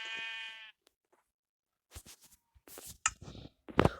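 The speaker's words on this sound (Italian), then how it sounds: "Ragazzi, una pecora!" A single sheep in the Minecraft video game gives one clear bleat, followed after a pause by scattered short clicks and thumps of gameplay.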